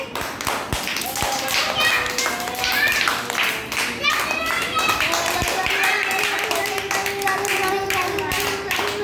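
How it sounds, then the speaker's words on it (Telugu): A group of children claps in quick, uneven bursts, close and lively, with excited young voices chattering and calling out over the clapping. "అందరూ క్లాప్స్ కొనండి ఒకసారి."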